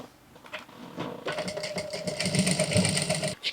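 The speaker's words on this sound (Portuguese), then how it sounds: "Então, eu vou passar a costura aqui, ó, reforçando e prendendo, tá?" A sewing machine stitches a felt Easter bunny, starting with a few short bursts and then running in a fast, steady mechanical whir for about two seconds before stopping abruptly.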